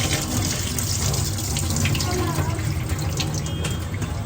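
Steady rush of running water from a tap, continuous and fairly close, with faint splashing as bitter gourds are rinsed beneath it.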